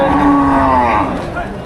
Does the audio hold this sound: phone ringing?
no